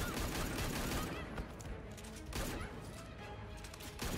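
Rifle fire in the fighting game Injustice 2, played as Power Girl, comes as loud, dense crackling bursts broken by short gaps, heard up close with game effects around it.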